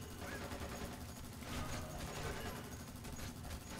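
Turret gunfire rattles in rapid continuous bursts in Splinter Cell Conviction, a dense, distant-sounding fusillade with scattered impacts and no pauses.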